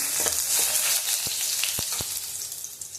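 Garlic frying in hot oil for a tempering gives a steady, close sizzle, punctuated by a few sharp clicks and taps of a spoon stirring in the pan.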